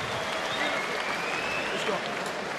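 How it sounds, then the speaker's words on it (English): A boxing arena crowd applauds at the end of the seventh round of a WBO world title bout, a steady wash of clapping with a commentator talking over it. "Subdued sort of crowd at the end of that seventh round."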